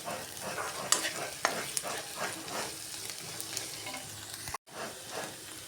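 Masala for an egg roast sizzles and fries in a pan while a spoon stirs and scrapes through it, giving a constant crackle with sharp clinks now and then and a brief break near the end.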